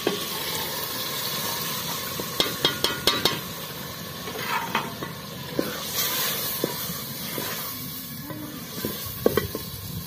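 Dal lentils going into a cooking pot in a rural village kitchen: watery splashes, quick rattling clatters and stirring scrapes, moderately close, with no speech.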